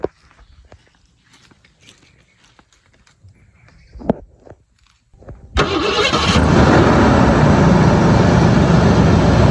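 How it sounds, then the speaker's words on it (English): Faint shuffling and a few soft knocks come first, then a 1987 Ford Thunderbird's engine cranks and catches at once, settling into a loud, steady running roar close to the microphone. "I'll crank it up for you so you can hear exactly what the motor sounds like"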